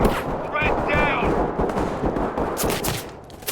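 Gunfire in the SWAT shooter Ready or Not, with dense, rapid shots rattling steadily throughout amid busy game noise, and a voice briefly heard in the mix.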